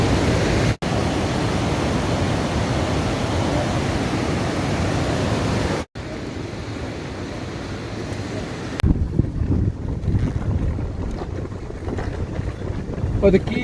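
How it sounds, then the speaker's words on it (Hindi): Glacier meltwater tumbling as a waterfall in Soq Valley near Skardu, Pakistan: a steady, loud broadband roar with wind buffeting, briefly cut twice, then quieter and rougher toward the end. "आबशार ग्लेशियर का पानी आ रहा है।"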